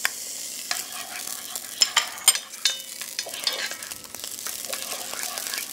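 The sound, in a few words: quartered onions sweating in fat in a pan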